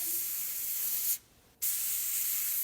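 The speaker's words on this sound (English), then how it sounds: "spray the item, cast duck head, etc. with hairspray, and the color sticks better" Aqua Net hairspray hisses onto a cast duck head in two close, steady spray bursts separated by a brief pause, with no voices present.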